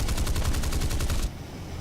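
Rapid cannon fire from a Venom jet in War Thunder, a steady fast rattling burst of about a dozen close, loud shots that stops abruptly, leaving engine drone.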